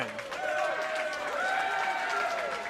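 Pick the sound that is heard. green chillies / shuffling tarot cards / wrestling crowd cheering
wrestling crowd cheering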